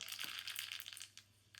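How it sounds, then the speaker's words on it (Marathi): Mustard seeds hit hot oil for a tempering for amla chutney, giving a close, dense crackle and sputter that fades after about a second, followed by a brief final pop. "आता तेल गरम झालं आहे, त्यामध्ये आपण टाकू मोहरी"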